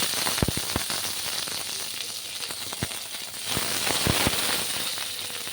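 Curry leaves dropped into hot oil already spluttering with mustard seeds, a continuous hissing sizzle punctuated by several sharp pops and crackles, close and fairly loud.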